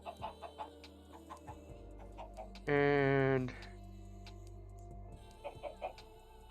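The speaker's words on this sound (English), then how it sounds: "Grab all 6 of these chickens." Minecraft chickens clucking in short repeated bursts at close range, broken by a sustained loud buzzing tone in the middle; a voice speaks briefly.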